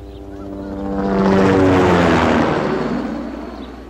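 A propeller aircraft flies overhead, its droning engine swelling from faint to loud and fading again over a few seconds.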